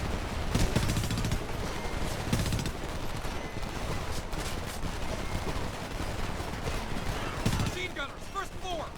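Sustained machine gun fire from enemy gunners in the shooter game Homefront, a dense continuous rattle of automatic bursts with occasional louder shots, mixed with game noise and some voices throughout.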